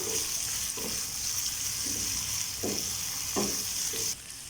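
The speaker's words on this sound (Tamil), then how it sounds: "இதை சேர்த்து லைட்டாக வதக்கிக்கலாம்." Small onions sautéing in a pan for tomato chutney give a steady hiss of frying, with a few soft scraping strokes from stirring, close and continuous with no talk.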